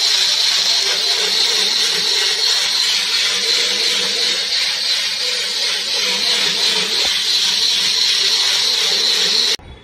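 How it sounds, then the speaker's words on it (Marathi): A kitchen mixer grinder runs at full speed, a loud steady whirring whine held for several seconds before cutting off abruptly at the end. "ती परत एकदा लावते मिक्सरला"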